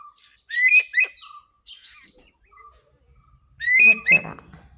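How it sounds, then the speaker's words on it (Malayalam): Small birds perched in tree branches chirp and whistle in two bright, close bursts separated by quieter scattered tweets, with no voices present. "ആ മരച്ചില്ലകളിലൊക്കെ പക്ഷികളിരിക്കുന്നുണ്ട്"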